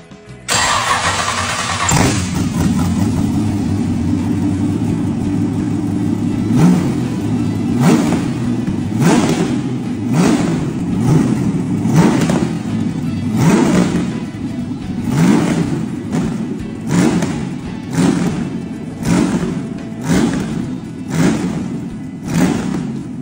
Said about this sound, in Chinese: 带你们感受一下 V8 发动机启动那一刻的恐惧感有多么的强烈